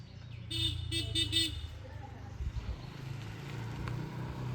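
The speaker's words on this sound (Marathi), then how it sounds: "व्हिडिओसाठी हॉर्न वाजवतो या." A Yamaha MT15 motorcycle horn sounds in a burst of four short, loud honks early on, followed by motorcycle engine and road noise outdoors.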